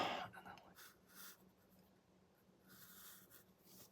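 A pen draws thin lines on paper while sketching a King Kong–style monster, giving soft, faint scratchy strokes in short bursts with pauses between them.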